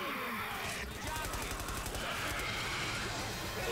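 Rapid automatic gunfire from a horror shooter video game, dense and continuous for the whole stretch, with a brief lull near the one-second mark, all loud and up close.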